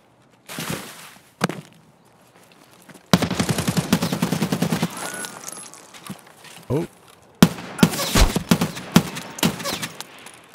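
Gunfire in the video game Escape from Tarkov: sharp, loud shots in scattered bursts, some single and some in rapid clusters, between stretches of quieter ambience.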